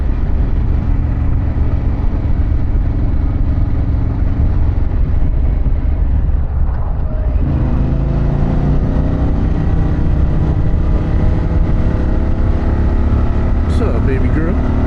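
Harley-Davidson Pan America motorcycle with a Vance Hines exhaust rumbling steadily while riding, with a low engine drone and a gear shift near the middle, wind noise over it and someone talking.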